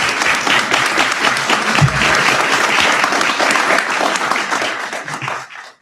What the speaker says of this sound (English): Please give Anna a round of applause